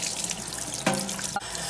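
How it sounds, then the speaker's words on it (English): A kitchen tap runs steadily over a knife being rinsed and scrubbed after cutting, with a brief sharper splash partway through, close and without talk. "make sure you wash your knives"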